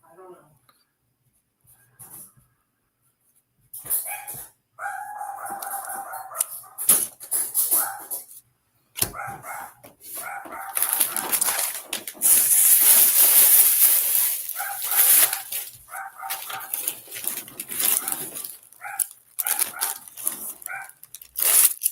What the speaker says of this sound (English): I know y'all came in here to listen to my dog bark, right?